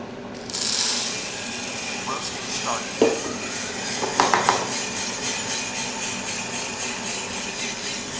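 Coffee beans pour into the drum of an Aillio Bullet R2 Pro roaster with a sudden rushing onset, followed by a steady rattling churn and a few sharp metallic clicks over the whirring machine.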